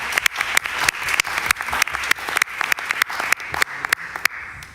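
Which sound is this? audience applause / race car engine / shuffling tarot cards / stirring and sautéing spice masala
audience applause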